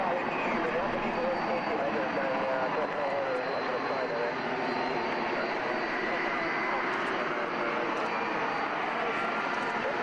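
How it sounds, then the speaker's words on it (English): Crusader jet aircraft taxiing out, a steady broadband engine roar and whine holding at even loudness for the whole stretch, moderately distant with no breaks. "Now, these aircraft that are taxiing out, the Crusader"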